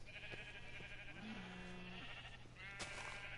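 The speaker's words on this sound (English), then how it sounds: "that is a lot of sheep" Sheep bleat in the Minecraft video game, a few short game-style bleats rising over a quiet steady background, with no talking over them.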